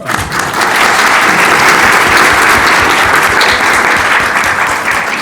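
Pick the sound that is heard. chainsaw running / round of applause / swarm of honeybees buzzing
round of applause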